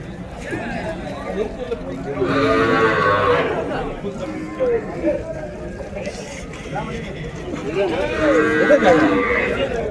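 Cattle moo at a busy cow market in Vaniyambadi, with drawn-out lowing calls rising over a constant crowd murmur and nearby talk.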